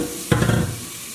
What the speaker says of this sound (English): Stir well when the broth is almost boiling.